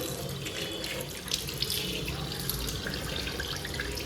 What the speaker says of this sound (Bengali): ফার্স্টে আমি জল দিয়ে ধুয়ে নিচ্ছি